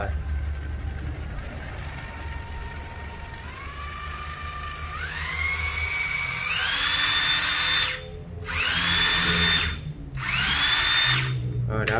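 A Japanese 100V electric drill revs up in rising steps to higher speeds, whining loudly, then cuts out and spins up again several times in short bursts.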